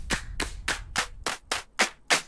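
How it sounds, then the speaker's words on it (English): Eight layered clap samples from a drum sample pack play in a steady sequence, each a crisp, close, punchy hit with a brief decay, loud and isolated with no voices. "like the normal claps."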